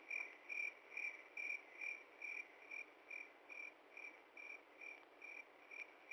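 Crickets chirp steadily outdoors in a regular pulsing rhythm, a soft continuous trill that repeats about twice a second with nothing else over it.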